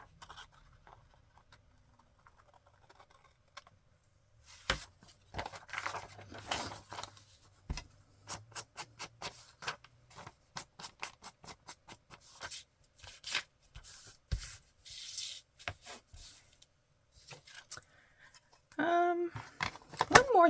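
Paper being trimmed for a junk journal page with a few rustling snips and cuts in close, irregular bursts, then a brief spoken voice near the end.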